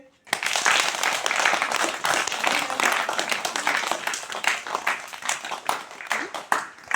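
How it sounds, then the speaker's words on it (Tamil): Students at a primary school clap together at a school gathering, a sharp start followed by a steady patter of many hands that continues unevenly throughout with small loud spikes. "கைதட்டு"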